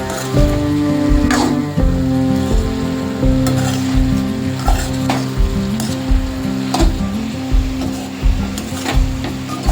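A spoon stirs beans thoran with grated coconut in a frying pan, making a close, loud, rhythmic scraping and clattering over a continuous sizzle, with a low steady hum underneath.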